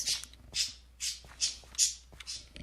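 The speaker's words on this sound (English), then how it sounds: "Ah, noisy bird wants to be heard." A noisy bird in the Minecraft game squawks in six sharp, bright bursts at a steady pace, each short and shrill, with faint background hum between them.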